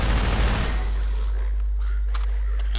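Submachine gun fire in the Precursor Source mod, a loud, dense burst of rapid shots in the first second, then a low rumbling tail with faint clicks.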